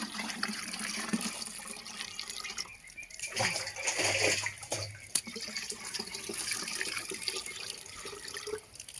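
Water running into a container outdoors in a backyard garden, a steady, close splashing fill that rises and surges midway and continues without pause.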